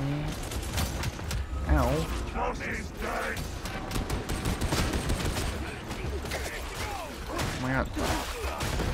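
Repeated shotgun blasts from a game of Warhammer 40,000: Darktide, fired in busy rhythmic bursts amid clanking combat noise, with a player's voice exclaiming over the din.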